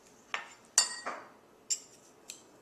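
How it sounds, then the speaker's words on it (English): A handheld garlic press squeezing garlic cloves, heard as a few sharp metallic clicks and clinks spaced irregularly, close and fairly quiet with no talking. "I have a garlic press and I just love using it, so all you gotta do is just press it in"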